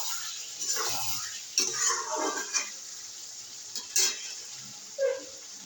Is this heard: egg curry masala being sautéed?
yes